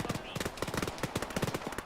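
Rapid bursts of automatic gunfire crackle in the ARMA 3 military shooter during an ambush, dense repeated shots with a few voices faintly mixed in.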